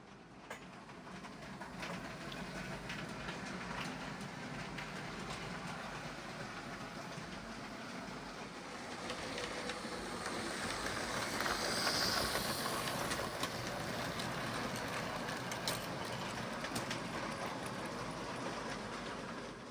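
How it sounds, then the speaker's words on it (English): A model railway train running on its track, a steady clickety-clack rolling and rumbling that goes on throughout at moderate level, swelling slightly midway, with no talk. "here comes the official last train of 2023 on my model railway"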